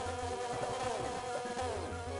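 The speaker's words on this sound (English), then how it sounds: "he turns into a small bee to go and kill the bees that are around him" Bees drone in a steady electronic buzz in Donkey Kong Country 2 on the Game Boy Advance, quiet and continuous with a busy layered tone throughout.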